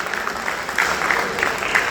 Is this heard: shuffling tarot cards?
no